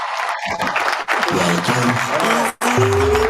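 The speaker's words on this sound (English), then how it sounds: "we're gonna have some confetti here, a little applause" An applause sound effect, a loud burst of crowd clapping and cheering broken by two brief dropouts, with tonal electronic sounds mixed in.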